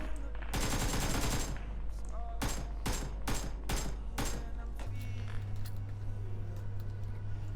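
Automatic gunfire from the PUBG battle royale video game rattles out in loud, rapid bursts and several separate volleys over steady game background noise.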